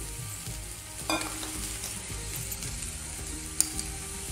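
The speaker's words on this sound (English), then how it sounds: "Tip in the yam." Elephant foot yam tipped into a hot pan with ginger, garlic, green chili and salt, giving a steady close sizzle with a sharp crackle burst early on and a brief clink near the end.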